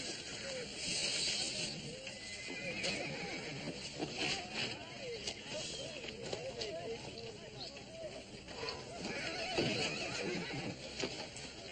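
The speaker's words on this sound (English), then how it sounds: "I want to see the horses." Horses neigh and whinny in a stable setting from a western drama, their calls rising over a dense, steady backdrop of movement and hissing noise, with speech present.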